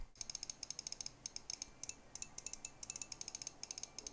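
Main button clicks of a Razer DeathAdder V4 Pro gaming mouse, a quick string of crisp, slightly pingy clicks in rhythmic bursts, close up and fairly quiet over a faint hiss.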